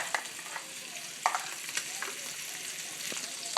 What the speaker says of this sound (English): crank up the heat to as hot as we can get it before we sear off our beautifully now quick marinated pork tenderloin